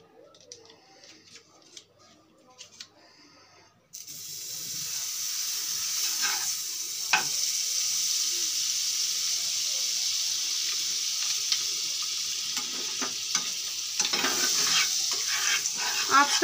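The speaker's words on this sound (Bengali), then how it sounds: "একটা বাটার আমি তাওয়াতে দিয়ে দিচ্ছি" Butter dropped onto a hot tawa for breakfast bursts into a steady, bright sizzle after a few quiet seconds of faint rustling, with occasional spatula scrapes and pops over the continuous hiss, close and fairly loud.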